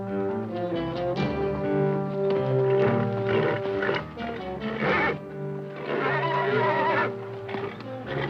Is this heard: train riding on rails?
no